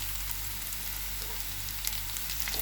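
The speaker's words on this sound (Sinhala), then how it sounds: "මේ වෙලාවේ මම මේකට රම්පේ කරපිංචා ටික දාගන්නවා." Rampe and curry leaves fry in hot oil with garlic and ginger for a soya meat curry, a steady close crackling sizzle with faint pops throughout and no talk.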